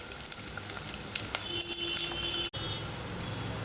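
Crushed garlic and green chillies fry in oil for a horsegram rasam tempering: a continuous, fairly soft hiss and crackle of sizzling, close by, with a brief cut partway through.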